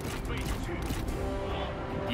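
Gunfire volleys ring out in a Total War: Three Kingdoms battle, with dense overlapping shots and clatter over a busy battlefield din throughout.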